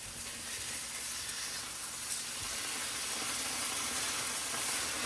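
Liver frying in a pan on a home stove makes a continuous close sizzle and hiss, steady in level with a brief soft thump partway through.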